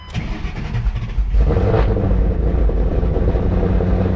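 A built 2009 Mustang GT500 making 1,000 horsepower cold-starts: a brief cranking whir, then the engine catches at about a second and a half and settles into a loud, deep, lumpy rumble.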